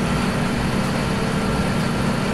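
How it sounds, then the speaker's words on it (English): A modded tractor in Farming Simulator 17 drones with a loud, steady low engine rumble and broadband roar, continuous and unchanging throughout with no other sounds. "This tractor mod is so noisy."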